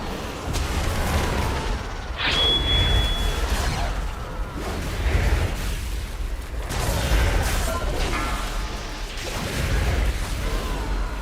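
Cannon fire in World of Warcraft: a string of heavy, booming blasts spaced a few seconds apart over continuous rumbling game noise, with one bright ringing tone near the start.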